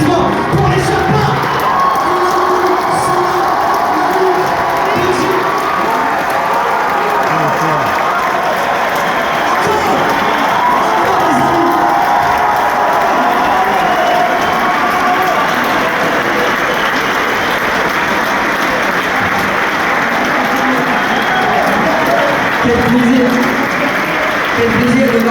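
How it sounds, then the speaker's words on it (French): A packed theater crowd at the Grand Rex in Paris roars for the Sherpas, thunderous sustained applause blended with cheering, whoops and shouting voices, loud and unbroken for over twenty seconds. "Faites un tonnerre d'applaudissements pour les Sherpas."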